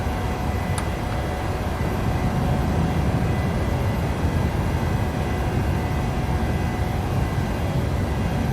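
A PMDG 737-700 airliner climbs away after takeoff in Microsoft Flight Simulator, with a steady, loud, broadband jet engine roar holding constant throughout.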